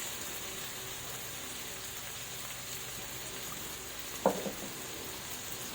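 Pork with fish sauce and pepper sautés in a pan for an eggplant stir-fry, a faint, steady sizzle with a single brief clatter of stirring near the end.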